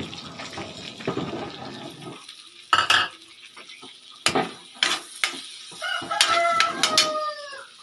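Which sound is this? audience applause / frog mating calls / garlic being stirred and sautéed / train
garlic being stirred and sautéed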